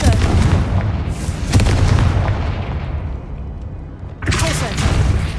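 Fiery Confringo spell explosions in the Hogwarts Legacy game: repeated loud booming blasts with dense crackling rumble, a brief dip, then another strong burst near the end, with a voice speaking the incantation amid the effects.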